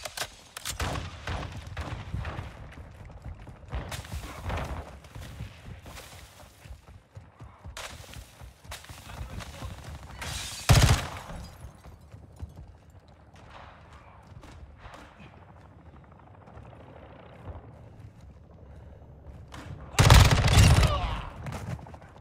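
A Glock 18 pistol fitted with a 50-round drum magazine fires in a video game, loosing repeated rapid bursts across the stretch, with the loudest volleys close and harsh, and quieter ambient noise in between.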